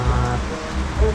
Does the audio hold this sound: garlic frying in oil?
no